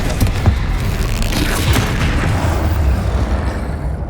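A Confringo spell explosion in the Hogwarts Legacy video game, a loud booming blast followed by rumbling impacts and crackling debris over about four seconds, with no talk.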